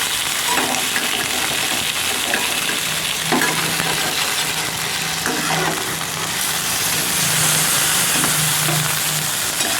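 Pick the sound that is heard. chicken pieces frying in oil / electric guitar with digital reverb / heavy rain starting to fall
chicken pieces frying in oil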